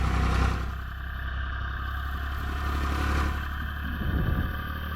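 A 2810 tractor raking cover-crop bluegrass hay in a field, its engine droning steadily at moderate distance with a faint rattling clatter throughout.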